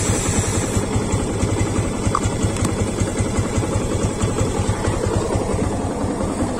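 A motorcycle engine idles steadily with an even low chugging pulse, close and fairly loud, running on without a clear shutoff.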